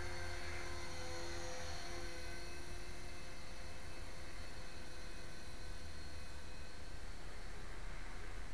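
An HK 450GT remote control helicopter flies over snow, its rotor and motor giving a faint, steady high whine with a continuous hiss, sounding distant and unchanging, with no voices.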